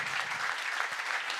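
Brief, steady applause from an audience at a regional sports awards broadcast, a soft, even patter of many hands heard from a distance.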